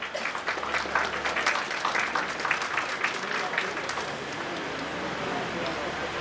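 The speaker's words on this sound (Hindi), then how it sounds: "जोरदार तालियां डॉक्टर अक्षिता के लिए" Applause for Dr. Akshita at an inauguration ceremony for a chest and eye care centre, crowd clapping that is strongest early then thins to a lighter patter, with talk mixed in.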